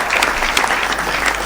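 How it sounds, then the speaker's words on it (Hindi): An audience claps together, a brief, dense burst of steady applause close and loud with no voices over it. "यहाँ से लेके और वहां तक हाथ उठाकर बजाओ ताली।"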